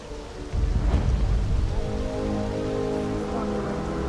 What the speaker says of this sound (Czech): Prší, jo.